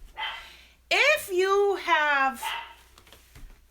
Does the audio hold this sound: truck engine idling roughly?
no